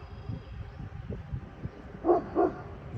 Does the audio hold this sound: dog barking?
yes